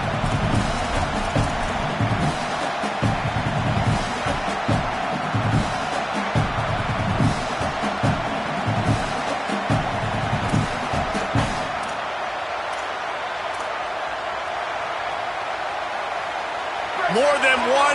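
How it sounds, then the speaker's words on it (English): A massive home crowd roars in a college football video game, a dense sustained wall of cheering in a packed stadium that runs loud and steady, thins slightly near the end, then surges again, with commentary voices talking over it. "how nice is it to have the home crowd going absolutely bananas?"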